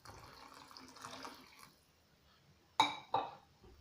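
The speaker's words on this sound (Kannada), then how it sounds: "ಆ ನೀರಿದೆ, ಅದನ್ನೇ ಆ್ಯಡ್ ಮಾಡ್ತಾಯಿದ್ದೀನಿ." Vegetable-boiled water is poured into sweetcorn soup in a pot with a soft, splashing trickle that fades out, followed by two sharp clinks of a vessel.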